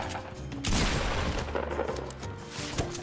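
A rapid burst of gunfire in the video game Fortnite, loud sharp shots in quick succession that fade into scattered lighter reports and game ambience.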